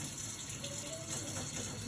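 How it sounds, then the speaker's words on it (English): Warm water runs from a tap into a kitchen sink being filled for washing dishes, a steady close gushing flow with no talking. "We're then going to turn on warm water and fill the sink halfway with the water."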